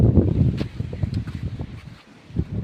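Cool sea wind gusts across a fishing boat at sea, a steady loud rush with fluctuating buffeting and low rumble, no talking.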